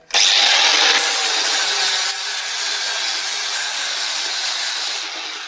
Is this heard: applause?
no